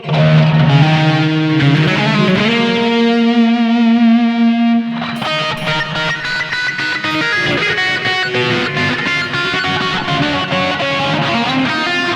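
An electric guitar through a BOSS eBand JS-10 plays sustained notes and then rhythmic chords, each trailing into echoing delay repeats and a wash of reverb, loud and close.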